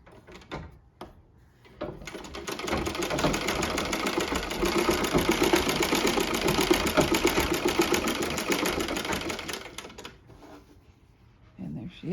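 An 1879 Singer Improved Family sewing machine stitching, its steady mechanical clatter starting after a few clicks and running for about eight seconds before stopping, with some faint handling sounds around it.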